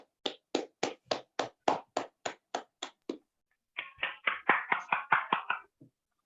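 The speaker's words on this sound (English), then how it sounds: "Please give her a huge round of applause." Applause for a keynote speaker at a book club reading session, heard as two runs of crisp, evenly spaced claps with a short gap between them, close and fairly loud with no talk.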